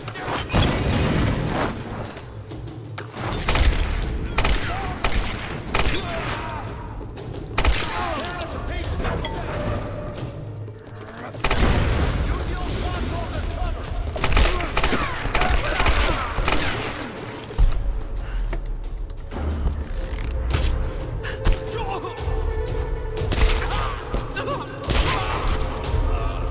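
Rapid bursts of machine gun fire from a video game, dense and loud, crackle almost continuously with short breaks, layered over game effects and sounds of impact.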